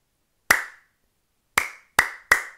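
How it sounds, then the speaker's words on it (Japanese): One person giving four loud, sharp hand claps, a single clap followed by a pause and then three quicker ones, close up in an otherwise quiet room. "私ねめっちゃ大きい拍手出せるんだけど"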